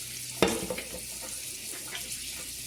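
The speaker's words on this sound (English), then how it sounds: "Wash my hands off." Hands are washed under a running kitchen tap, giving a steady, soft hiss of water with a brief splash near the start.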